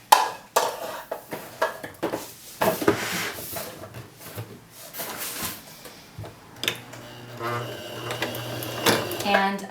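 A sewing machine stitches a dart along a line of pins in a sewing room, with short bursts of rapid stitching broken by pauses and small clicks and handling noises, under a person's talk.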